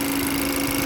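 A Chevy engine with a broken vacuum pump and a timing fault runs steadily nearby, giving a brief, constant droning hum with no voices.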